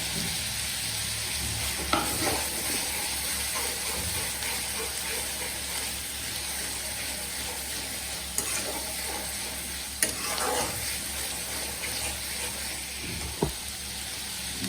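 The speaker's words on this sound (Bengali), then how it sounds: "আমি সব কয়টা মশলা ভালো করে কষিয়ে নেব" Garlic paste, ginger paste and spices stir-fried in a pan for fish-head muri ghonto, a steady close sizzle and frying hiss throughout, with occasional scrapes and clinks of a spatula stirring.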